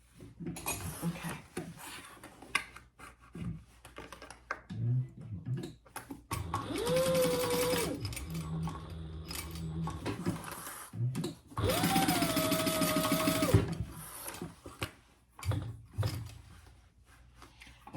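A sewing machine stitches the lining seams of a laptop bag in two sustained whirring runs, with fabric handling and clicks between bursts and brief talk at the edges.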